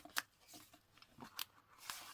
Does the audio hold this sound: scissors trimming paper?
yes